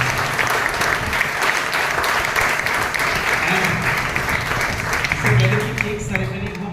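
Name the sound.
audience applause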